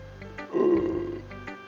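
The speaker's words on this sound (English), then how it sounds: "And burp." A single low, rumbling human burp after eating barbecue potato chips, moderately loud and close, swelling and then trailing off over about half a second.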